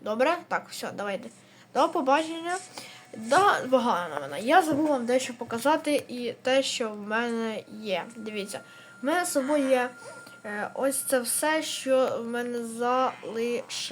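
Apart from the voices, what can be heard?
No everyday noise stands out behind the speech.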